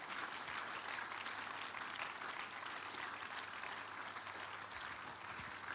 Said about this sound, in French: Acclamez pour Jésus, il est digne de toute la louange.